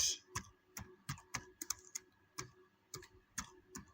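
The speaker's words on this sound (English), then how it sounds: "So here I'll just type in my question." Keys clack on a computer keyboard in quick irregular bursts of distinct taps, close and quiet against a silent background.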